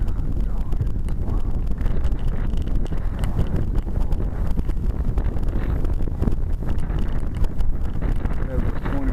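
Strong gusting wind buffets the microphone at an RC flying field in 20-plus mph conditions, a constant loud low rumble running the whole time with occasional bumps and faint voices underneath.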